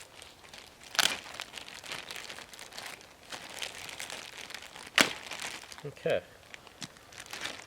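Packaging around new Daiwa Emblem Pro carp fishing rods is crinkled and torn open, giving scattered rustling and a few sharper crackles and rips, with a brief spoken word partway through.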